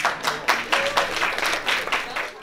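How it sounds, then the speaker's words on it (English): Audience applause at an International Day celebration at the Australian Defence College, rhythmic bursts of clapping from a moderate crowd that swell and fade, heard at a middling distance. "So a big round of applause to Shafiq Jafri and all the team."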